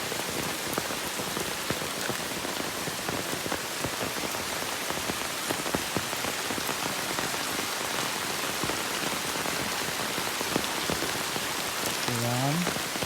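Heavy rain pours steadily at Litalip during flooding, a dense, loud, unbroken hiss of drops on surfaces that lasts throughout with no talk.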